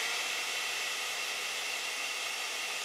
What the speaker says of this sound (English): Let me just blow dry it for like 2 seconds.